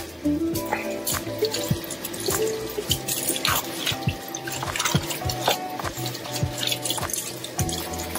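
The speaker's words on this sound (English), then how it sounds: "Just give it a nice rinse." Tap water running and splashing over a store-bought side of salmon in a sink, with steady flow and irregular drips and splats, close and fairly loud.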